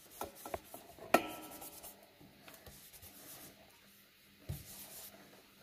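A stamped paper birthday card gets rubbed by hand, heard as a few close, soft scraping and brushing strokes with light knocks on a tabletop, then quieter rubbing.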